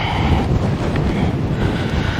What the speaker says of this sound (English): let's try to cover this microphone a little bit. It's probably a little bit windy.